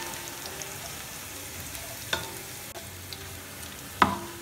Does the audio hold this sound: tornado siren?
no